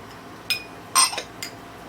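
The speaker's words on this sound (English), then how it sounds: "You just want to stir it up, mix up the honey and the lemon juice" A spoon clinks against a glass while stirring honey, lemon juice and lemon zest, giving a few light, separate taps close by in a quiet room.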